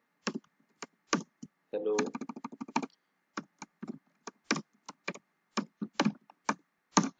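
Computer keyboard typing in Windows 10: quiet, close individual key clicks in an irregular rhythm, with a brief spoken word partway through.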